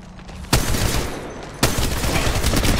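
Two loud bursts of gunfire from the video game Apex Legends, each sharp onset followed by sustained rapid firing, close and dominant.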